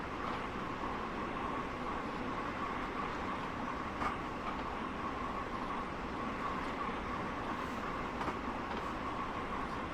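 Long Island Rail Road train running on track at coast setting in a train simulator, a steady rumbling hum with faint rail clicks throughout.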